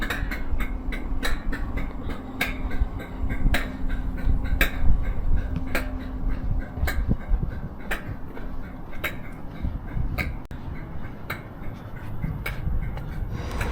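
A Class 92 electric locomotive hums at a standstill at a station with a low steady drone, while regular sharp ticking clicks repeat throughout.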